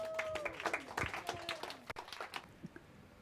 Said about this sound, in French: on peut les applaudir tous les deux maintenant